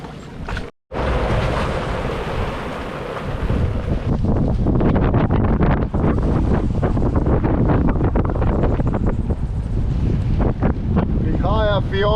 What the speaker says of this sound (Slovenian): Zaenkrat vind kaže 35 vozlov